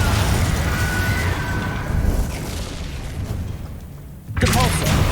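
Confringo spell explosions in Hogwarts Legacy, a rumbling burst of in-game blasts and booms that fades out, followed by a sharp fresh impact near the end, all under game audio.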